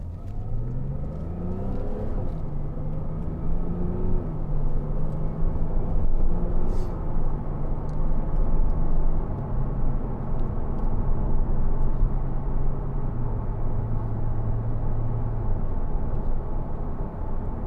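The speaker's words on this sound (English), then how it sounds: "Sometimes you don't want it to change, you just want to listen to the engine noise." A 2012 Porsche Cayman 987 2.9 with PDK gearbox on the road: a steady engine hum and rumble whose pitch climbs and settles through smooth, seamless gear changes, fairly quiet under road noise.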